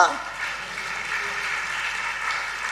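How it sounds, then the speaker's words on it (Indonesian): Church congregation applauding during an Indonesian worship service, a steady wash of clapping sustained throughout without a break. "Beri tepuk tangan bagi dia."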